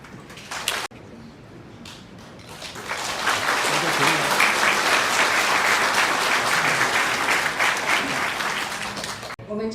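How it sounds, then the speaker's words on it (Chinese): Sustained audience applause at a handover ceremony for the directors of National Cheng Kung University Hospital, building after brief speech to a dense, steady clapping that continues for several seconds before cutting off. "我们掌声谢谢杨俊佑院长的贡献"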